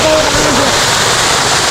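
Tintale waterfall at Panauti pours with a loud, steady roar of rushing, splashing water close by, a brief voice-like tone showing only at the very start.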